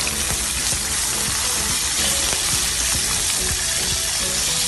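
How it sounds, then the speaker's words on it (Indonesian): Butter melts and is stirred in a pan for caramel popcorn, giving a loud, constant close-up sizzle with faint scraping of the stirring. "Ini kita aduk terus sampai menteganya ini"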